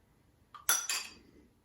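A spoon clinks against a bowl while stirring warm water for slime, giving a few sharp, close metallic chinks in quick succession before fading.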